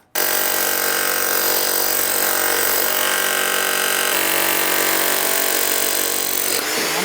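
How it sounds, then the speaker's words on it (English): A Bosch rotary hammer pounds through a concrete slab, a loud, continuous close-up hammering roar that holds steady for about six and a half seconds before cutting off abruptly. "we're going to use our Bosch roto hammer to bust this thing out"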